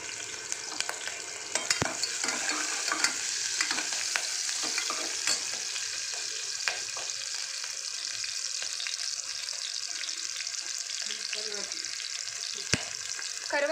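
Onions and green chillies frying in a pan, a constant crackling sizzle with scattered pops and stirring clicks that holds for several seconds without talking.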